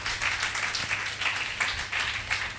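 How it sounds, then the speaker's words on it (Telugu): A church congregation claps for Jesus in a steady, loosely rhythmic group applause, many hands pulsing in waves at moderate volume throughout, with no voices rising above it. "చప్పట్లు కొడదాం, యేసయ్యకి చప్పట్లు కొడదాం"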